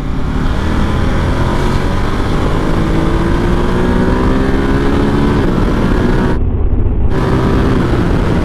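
A fly bike's engine runs in a steady, loud, continuous drone that holds throughout, with a brief dip near the end and no voices.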